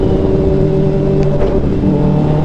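Big bikes rev as they pass, a loud close engine drone with rising and falling pitch as riders fly by, continuous and without voices.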